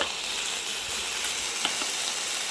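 Chicken lightly sautéed in a pan for a salad, a soft continuous sizzle with faint hiss and a few small pops, close and fairly quiet.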